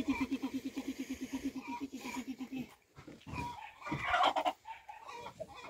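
A brooding hen on a farm gives a rapid, rhythmic run of low clucks close by for a few seconds. Then come mixed rustling and a short burst of other animal or voice sounds, and the whole scene is fairly faint.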